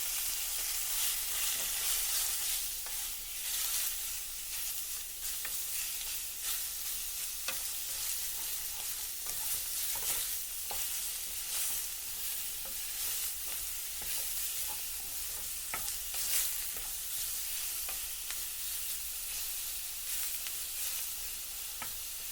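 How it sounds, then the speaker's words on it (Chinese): Tofu being stirred into a sizzling sauce in a pan for braised tofu: a steady close frying hiss broken by soft scraping stirs for over twenty seconds, with no talking. "我们把豆腐混在一起"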